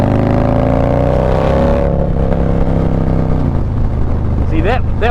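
A powerful, high-torque motorcycle pulls hard at half throttle, its loud engine tone climbing and then falling away under wind rush. A voice is heard briefly near the end.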